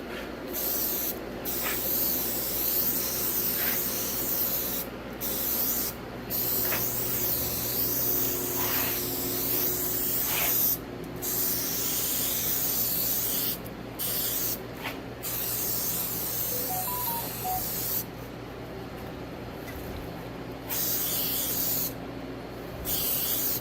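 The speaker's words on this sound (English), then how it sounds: "All right, we'll spray them and put them on." Spray adhesive being applied to foam pieces during a 1969 boat restoration, a long steady hissing spray broken by short pauses, close and loud, with no talking.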